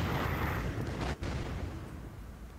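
Cupid's Wrath weapon fired in the VR game In Death: Unchained, a loud, dense eruptive blast that rolls continuously for a couple of seconds with a brief break midway, heavy and booming throughout.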